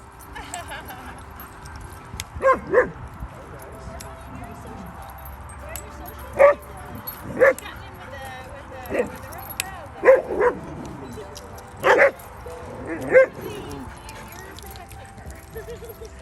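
Dogs at an off-leash dog park give several short barks and yips in scattered bursts over the clip, with a faint jingle of tags or keys and a person talking softly to the dogs in between.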